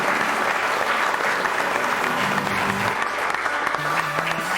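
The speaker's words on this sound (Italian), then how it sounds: "Facciamo un grossissimo applauso a Daniele." A television studio audience gives a sustained, dense round of applause that stays steady and loud for the whole stretch, with a few faint voices mixed underneath.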